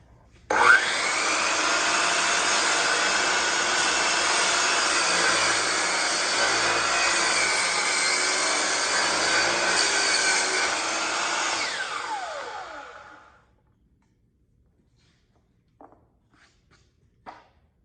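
A miter saw whines up loudly, cuts through a wooden board at a 65-degree angle for about eleven seconds, then spins down into silence, followed by a few faint handling knocks.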